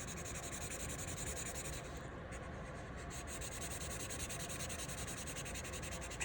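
A marker pressed evenly and colouring steadily across paper, a continuous close scratchy rubbing with no pauses or talking.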